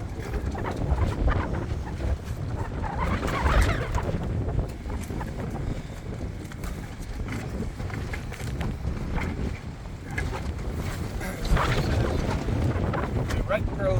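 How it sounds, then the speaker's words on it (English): Strong outdoor wind in Quartzsite buffets the microphone with a continuous low rumble and gusty swells throughout, while a person talks underneath. "It's very windy."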